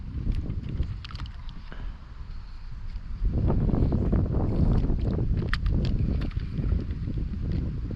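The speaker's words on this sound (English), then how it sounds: "Wind's going to come up now, which is annoying." Loud, buffeting wind on the microphone outdoors while fishing by the water, a constant low rumble that strengthens midway, with faint scattered ticks and rustles.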